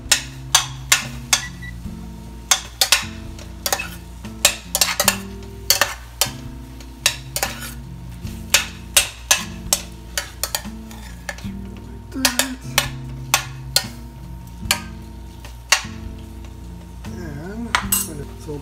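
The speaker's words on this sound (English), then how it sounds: "Let me give it a little stir here." Meat cooking in a pan gets stirred with a utensil, a close run of sharp metallic scrapes and clinks in an irregular rhythm over a low background of sizzling.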